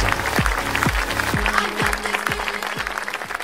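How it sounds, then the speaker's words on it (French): Audience at an awards ceremony in Dole applauds an entrepreneur receiving a trophy, a steady wash of clapping over low, regularly repeating tonal sweeps that sound like music or a jingle playing underneath. "Le public encourage, applaudit cet entrepreneur 2014."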